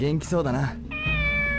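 A cat meows in the Dreamcast game Shenmue, a short drawn-out mew heard right after someone speaks briefly over quiet ambient game sound.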